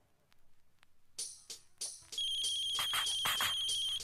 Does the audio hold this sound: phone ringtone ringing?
yes